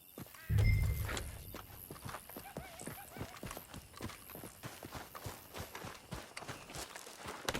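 Horse hooves in Red Dead Redemption 2 clop in a quick galloping rhythm after a thump at the start, moderately close and steady, with faint game ambience beneath.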